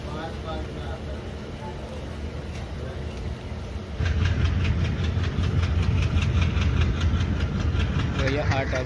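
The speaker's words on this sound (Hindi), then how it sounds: "पुरैया हाट जंक्शन में अब ट्रेन जा रही है" Passenger train on the Dumka-Godda line, arriving at Puraiya Haat junction: a steady engine drone with rail noise that swells louder about halfway through, bringing a rhythmic clatter of wheels.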